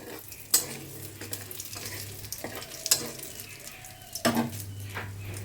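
Dried red chillies and whole cumin seeds tempering in hot oil in a home kitchen, a soft crackling sizzle broken by a few sharp clinks of a spoon against the pan.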